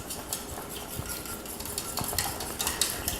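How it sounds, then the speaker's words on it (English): Sauce being whisked in a pot after a few drops of Worcestershire are added, with a steady scraping, clinking rattle of a whisk against the metal pan, fairly close and continuous with small louder strokes. "a couple little drops of Worcestershire sauce, and whisk it together"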